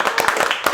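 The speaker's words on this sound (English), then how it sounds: "give yourselves a round of applause" A short burst of rapid hand clapping from a group, quick and fairly loud, like a brief round of applause.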